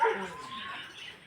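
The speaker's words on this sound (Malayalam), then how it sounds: "അപ്പോൾ അതിൻ്റെ കൂട്ടത്തുള്ളൊരു പട്ടിയാണ് കേട്ടോ." A dog at a home in Kerala gives a brief, faint bark or yelp at the very start, then fades into quiet background.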